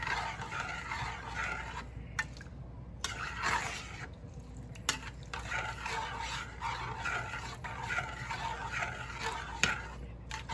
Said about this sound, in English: just stir it until all the butter melt out